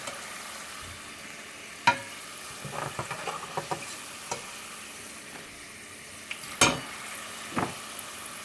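French fries frying in hot oil, a low steady sizzle with scattered pops and a few sharper clatters, fairly quiet and close, with no talking.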